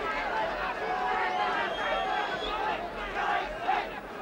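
A boxing crowd at the John Stracey vs Jose Napoles world title fight in Napoles's home capital, a broad, steady roar of voices with scattered cheers, heard under a commentator talking.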